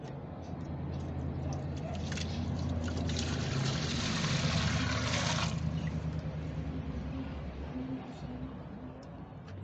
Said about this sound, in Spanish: Ahorita le vamos a echar agua.